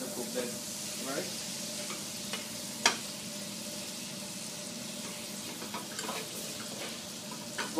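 Balsamic-glazed mushrooms sizzle softly in a pan over lowered heat, a steady faint frying hiss broken by a few sharp clicks and scrapes of stirring.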